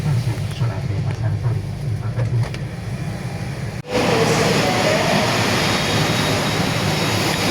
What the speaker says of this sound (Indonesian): ini udah masuk ya di dalam kereta ekonomi Ambarawa Express, tujuan ke kota Semarang dari Surabaya Pasar Turi.